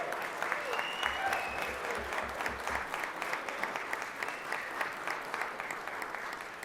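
Round of applause in the Georgia Senate chamber for the heads of the page program, steady moderate clapping from many hands that carries through the whole stretch, slightly distant, with faint voices mixed in.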